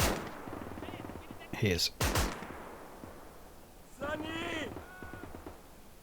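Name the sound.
artillery and gunfire in the video game Gates of Hell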